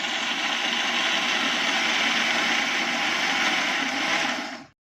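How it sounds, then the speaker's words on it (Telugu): A mixer grinder runs at a steady, loud whir as it grinds soaked chana dal with jaggery into a smooth paste, holding constant before cutting off abruptly at the end. "మిక్సీలో వేసుకొని ఇలా బాగా రుబ్బాలి."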